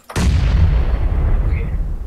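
Sustained rumble of heavy gunfire in PlayerUnknown's Battlegrounds, with dense overlapping shots blending into a continuous loud roar that starts abruptly after a brief quiet.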